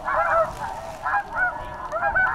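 A flock of snow geese honks at a roost before sunrise, a dense chorus of overlapping calls that swells in repeated waves, with no talk in the foreground.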